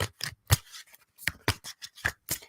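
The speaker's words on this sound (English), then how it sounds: "Wish I could shuffle like people to go, but my hands aren't big enough, especially with these decks." A deck of cards shuffled by hand gives a run of soft, irregular riffling snaps and slaps, quiet and close with short gaps between bursts.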